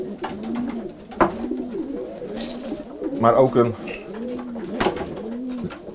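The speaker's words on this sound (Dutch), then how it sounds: "Zo worden de duiven hier verzorgd bij ons." Racing pigeons coo inside a loft, repeating soft, rounded calls in a steady rhythm from close by, with a few sharp wing flaps and clicks mixed in. Someone speaks briefly over the birds.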